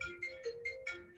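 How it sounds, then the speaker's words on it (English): A mobile phone ringtone goes off during a Zoom talk, a short run of repeating electronic tones sounding in a steady pattern over a low background hum, with no speech. "my phone is going off"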